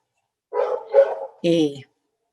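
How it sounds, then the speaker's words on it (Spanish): Dogs bark inside a house: two quick barks, a short pause, then a sharper third bark, all close and loud against an otherwise quiet room. "Están esperando que uno encienda el micrófono para empezar a ladrar."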